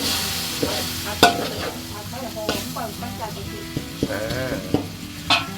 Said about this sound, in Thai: ผัดพริกแกงของเราให้สุกด้วยนะครับ ให้สุกหอมเลย ระหว่างการผัดก็เติมกะทิได้เลยครับ